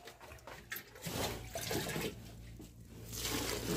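Water pours and splashes into a container in uneven gushes, close by and moderately loud, without any talking.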